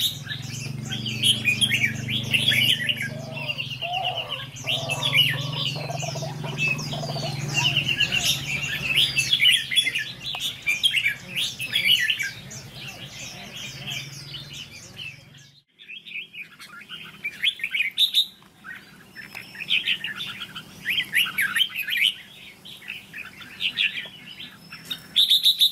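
Wild songbirds feeding near decoy birds outdoors: busy overlapping chirps and tweets, close and lively, with a low rumble early on that drops away halfway. The chattering then resumes in sharper bursts, with no talking.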